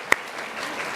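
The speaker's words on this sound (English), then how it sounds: "let's give him a round of applause" Brief burst of audience applause at a university social innovation showcase event, a diffuse even wash of clapping after a single sharp click near the start.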